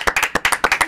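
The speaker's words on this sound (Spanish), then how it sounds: "Un aplauso." Brief, close clapping from a few people in a studio conversation, with around nine crisp, quick claps in an uneven rhythm, no voices over them.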